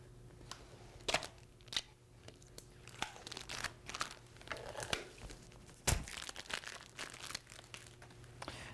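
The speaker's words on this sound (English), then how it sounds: "And so we're going to remove the peel coat here." The protective peel coat is stripped off a Unisub wood-grain sublimation plaque, giving quiet, intermittent crinkling and crackling with a few sharper snaps, close by and with no talk.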